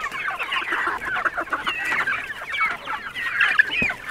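A flock of chickens clucks continuously and busily, close by, with overlapping chatter and a few sharper calls, no talking.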